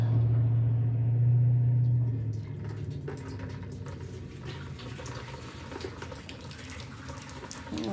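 Water pours steadily into a 1967 BMW Neue Klasse fuel tank, a smooth rushing flow that continues throughout with a faint hum underneath at the start.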